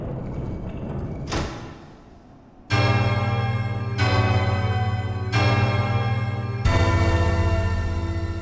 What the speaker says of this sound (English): Even the sound of that bell